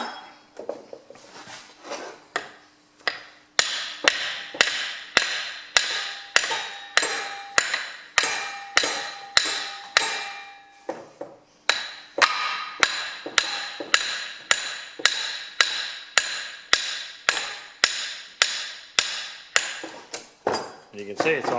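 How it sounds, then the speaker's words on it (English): Hammer blows on a bolt driving the lift shaft out of a Ferguson TE20 hydraulic lift cover, a long run of loud, sharp metallic strikes at a steady rhythm with a brief pause partway through. "it's mainly so we're hitting on the bolt and not on the end of the shaft"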